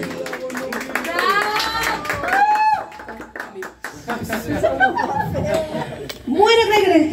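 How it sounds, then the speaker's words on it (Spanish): Guests at a birthday party with a mariachi band clap briefly amid laughter and chatter, with voices talking over the scattered, uneven claps throughout. "El aplauso que se escucha."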